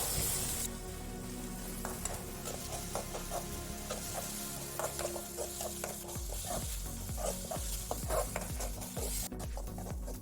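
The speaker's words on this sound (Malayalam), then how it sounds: "ഇത് രണ്ടും കൂടി നല്ലോണം വറുക്കുക." Dal roasting in a pan for paruppu thogayal, with a steady sizzle and repeated scraping and stirring strokes that build into quick rattling patter as the lentils start popping, loud and close with no voices.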